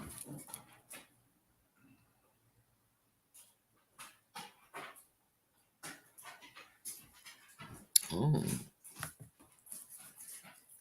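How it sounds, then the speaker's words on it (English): Saint Bernard dog giving soft whimpers and breathy pants in scattered short bursts, close and fairly quiet with silent gaps between, and a brief spoken exclamation near the end. "I love Saint Bernards. I love big dogs."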